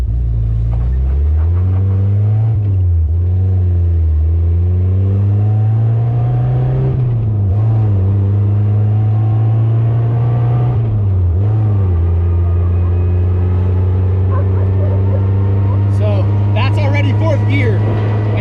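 A manual car's engine revving and accelerating through gears from inside the cabin, a loud droning hum that rises and dips with each shift, while someone talks over it.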